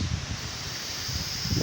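Strong typhoon wind from Typhoon Rolly buffets the microphone, a steady rushing roar with low gusty rumbles swelling at the start and end.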